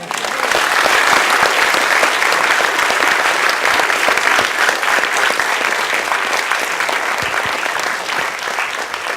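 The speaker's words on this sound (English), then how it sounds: "First of all, we're going to clap." Audience applause after a business school speaker talk, a full room clapping steadily and loudly for about nine seconds without pause.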